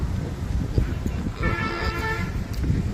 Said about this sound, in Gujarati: આ બધા હોર્ન સંભળાય ને હાઈવે વાહનોના